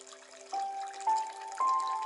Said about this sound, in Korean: 이 물소리하고 이 음악을 항상 틀어놔.